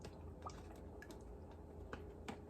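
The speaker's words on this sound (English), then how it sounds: "So we're going to pour this second bottle in here." Steak marinade poured from a bottle onto steaks, a faint, soft trickle with a few small drips and splashes, steady and quiet for a couple of seconds.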